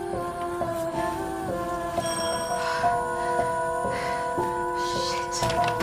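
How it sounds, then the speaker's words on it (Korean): A doorbell in a film scene, heard as repeated tonal chimes over a busy musical soundtrack, moderately loud and steady throughout. "초인종 소리에 문을 열어 밖으로 나가는데"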